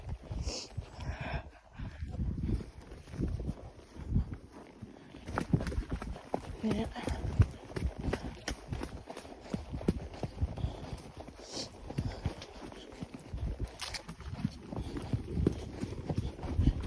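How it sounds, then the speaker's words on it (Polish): Hooves of a horse ridden through woodland clip-clop in a steady walking rhythm close by, with scattered thuds and rustles and a rider's voice now and then. "Dobry koń."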